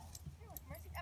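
Five-week-old puppies whimper and yip in short, high, soft cries over a brief moment, with a person's voice talking close by.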